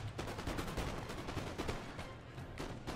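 Musket volleys in a Napoleon Total War battle, dense crackling rounds of overlapping shots going off in quick irregular bursts, fairly loud with no talking.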